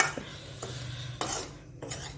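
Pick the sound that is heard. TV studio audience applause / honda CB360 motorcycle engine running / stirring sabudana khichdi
stirring sabudana khichdi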